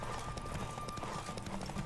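Hooves pound in quick, steady galloping beats during a horse race in the video game The Witcher 3: Wild Hunt, a fairly faint but constant clatter that runs throughout.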